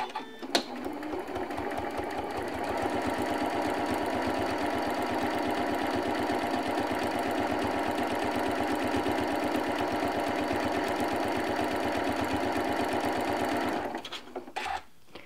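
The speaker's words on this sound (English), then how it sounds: "I'm just going to run a quarter inch seam along here" Sewing machine running steadily for about thirteen seconds, stitching a quarter-inch seam across quilt strips, a close, even motor whir with rapid needle clatter that stops abruptly near the end.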